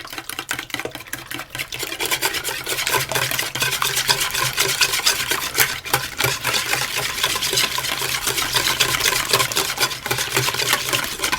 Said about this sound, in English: and the apple sauce, and I'm going to whisk those together